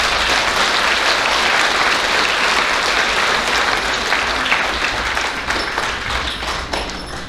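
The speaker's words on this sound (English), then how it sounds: "Please give those fourth graders a round of applause." A crowd claps steadily for fourth graders at an elementary school awards ceremony, dense sustained applause in a room that thins toward the end.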